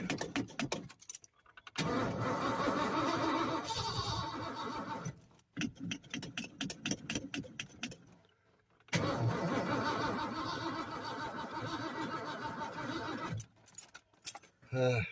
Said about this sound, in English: Don't really sound like it's cranking that good.